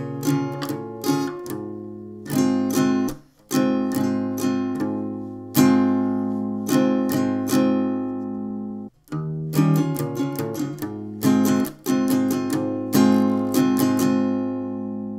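A guitar plays the chords of a song with sharp, rhythmic strums, let-ring pauses and quick up-down flourishes, loud and close with no talking over it.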